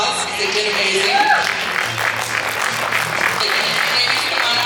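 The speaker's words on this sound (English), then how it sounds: "We'd like to give them all another big round of applause." Audience applause for contestants at a pin-up girl pageant at North Star Mohican Casino in Bowler, Wisconsin, steady crowd clapping throughout with a raised voice briefly over it.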